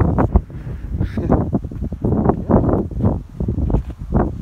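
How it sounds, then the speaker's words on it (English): Heavy wind buffets the microphone in loud, rumbling gusts that rise and fall continuously outdoors at a dog run build site, with no other sounds standing out. "It's freaking windy as hell."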